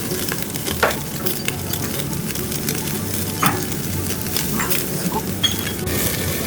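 A large, thick, fatty piece of meat sizzles and spits loudly on a grill, a steady dense crackle with occasional sharper pops and faint clinks, no talking over it.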